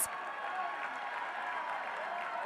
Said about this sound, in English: The crowd got excited as well.